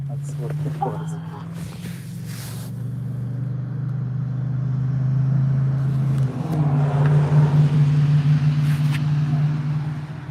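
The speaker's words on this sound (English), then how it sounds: "Oh, there's a car." A car passes at night near a graveyard, a steady low engine rumble that swells and grows louder toward the end, with people talking over it.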